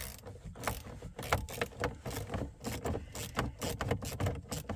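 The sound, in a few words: 7mm socket undoing a screw on a cover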